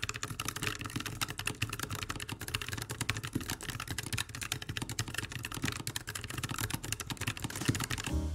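Steady, dense typing on a low-profile keyboard fitted with Chosfox keycaps, rapid keystrokes clicking continuously and close up with no pauses or voices.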